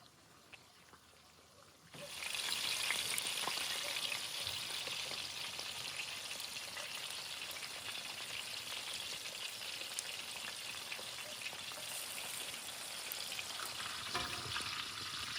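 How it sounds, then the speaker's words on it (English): Bacon frying in a pan in a Ukrainian village kitchen, cooked until crispy: a steady, dense sizzle and crackle kicks in after a quiet start and holds loud and even, with small pops scattered through. "We need to wait until bacon becomes crispy."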